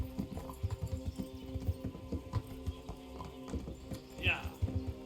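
Horse hooves clip-clopping in a steady rhythm over muffled medieval game ambience in Kingdom Come: Deliverance, with a faint whinny near the end and voices talking over it.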